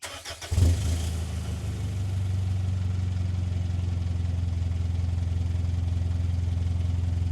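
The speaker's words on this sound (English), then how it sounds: "So that's a warm idle. It has a nice throaty sound." Mitsubishi Pajero with a 3-inch exhaust and upgraded turbo at warm idle, a loud, close, deep throaty rumble that settles after a brief opening surge into a steady, even drone.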